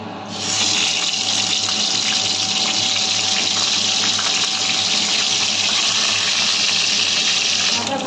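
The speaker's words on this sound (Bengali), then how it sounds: "তেল গরম হয়ে গেছে মাছের মাথাগুলো দিয়ে দেবো" Fish heads coated in turmeric go into hot oil in a pan for a Bengali muri ghonto, giving a loud, steady broadband sizzle that starts abruptly and holds unbroken to the end, with no talking.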